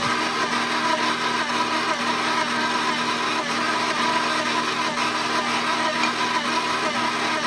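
Electric mixer beating Polish cheesecake batter as egg yolks are added one at a time, a steady loud whirring drone running continuously without pause.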